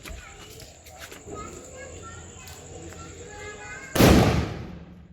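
A loud firecracker bang bursts suddenly over ongoing outdoor background noise and faint voices, then its echo fades away.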